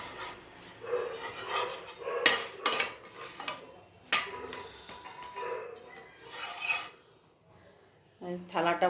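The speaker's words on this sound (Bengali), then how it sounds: "থালাটার মধ্যে রেখে রেখে দিচ্ছি।" An oil-free spinach paratha is set onto a metal plate in a home kitchen, giving a few sharp clinks and scraping rubs amid quieter handling noise, with a voice briefly heard near the end.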